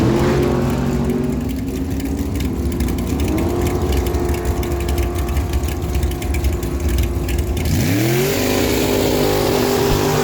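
Race Tech dragsters with 582 cubic inch engines at an NHRA drag strip: a loud, sustained engine roar holding steady pitch, then a sharp rev that swoops upward near the end, heard fairly close with no voices.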